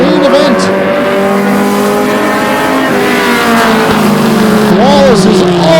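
Mini stock race cars running nose to tail in a 40-lap main event at Flamboro Speedway: loud, layered engine roars rise and fall as several cars pass close, while an announcer talks over them.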